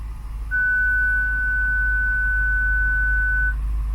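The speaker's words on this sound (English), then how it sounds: "We've got a beep, and that's it." A Range Rover Sport rear parking sensor gives a single steady electronic tone for about three seconds over a low idling rumble, then cuts off.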